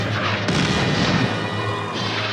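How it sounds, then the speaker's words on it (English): Artillery gunfire from the German invasion of Poland in archival war footage: a loud, continuous roar of booming blasts that swells sharply about halfway through the half-second mark and holds dense and heavy, with no voices. "The roar of gunfire replaces the talk of statesmen, and the curtain of war falls over Europe."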